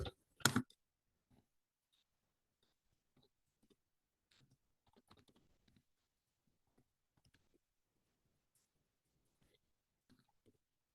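Keys tapped on a computer keyboard while entering a database name, a loud burst of clicks at the start followed by sparse, faint scattered keystrokes with pauses between them.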